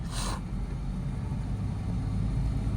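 A car engine gains speed during a driving lesson, a steady low rumble with road noise continuing throughout, close and moderately loud.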